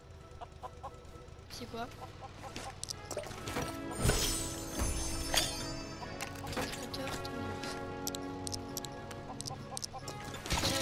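Chickens clucking in the LEGO Worlds video game, busy repeated clucks and squawks mixed with other game effects and a brief spoken question.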